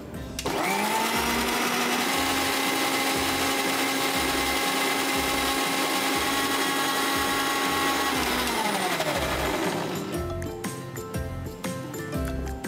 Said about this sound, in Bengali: সো আমরা আমাদের ক্রিমটা ব্লেন্ড করে নিই প্রথমে।